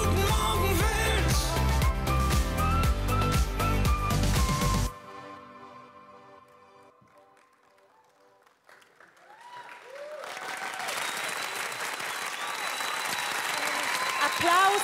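Audience applause at the ZDF-Fernsehgarten season-opening TV show, a loud sustained ovation over music that drops out abruptly, then swells back up as dense clapping and crowd noise.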